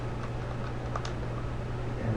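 Buttons on an SNES controller tapped in quick, light clicks, fairly close, over a steady low background hum with no talking.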